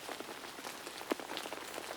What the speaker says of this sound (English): The rain still fell, pitter-patter, over Sleepy Forest